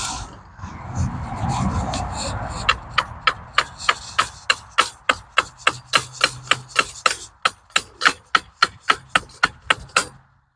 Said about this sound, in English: I use a hammer to kind of go the rest of the way